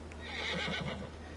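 A horse whinnies in NBA 2K22, one short, fairly quiet neigh over a steady low hum.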